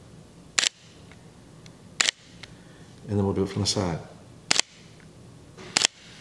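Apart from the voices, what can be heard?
camera shutter, Sony A7IV or Fuji X-H2S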